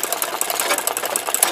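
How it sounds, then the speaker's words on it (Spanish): An electric zigzag sewing machine stitching embroidery runs in a fast, steady mechanical rattle, close and loud, with no pauses and no talking. "Estaba haciendo esta costura en la máquina que hace zigzag"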